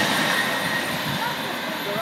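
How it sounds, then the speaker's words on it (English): A Class 390 Pendolino electric train rolls past the station at Eccles on a cold, rainy night, giving a steady, broad rushing roar that holds loud and even throughout. "for the final train today, it's a Class 390"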